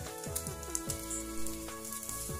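Chicken pieces sizzle in their own rendered fat with no added oil, heard up close as a steady dense crackle with scattered pops and bursts of spitting grease, alone with no voices.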